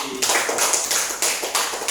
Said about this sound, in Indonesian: tepuk tangan untuk anak baik